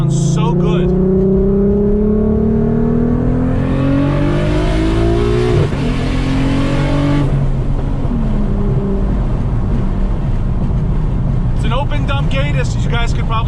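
A fully built Audi RS3 fitted with an R30 VR6 engine and running about 15 PSI of boost accelerates hard while driving, its loud engine note climbing through gears, with a sharp burst of revving near the end.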